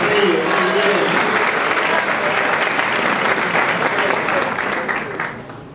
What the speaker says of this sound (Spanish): Un aplauso para nuestro querido amigo.